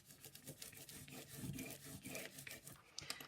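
Foil pieces rubbed by hand onto a sticky card, giving a steady, close scratchy rasping that swells and fades in short strokes, with no talking.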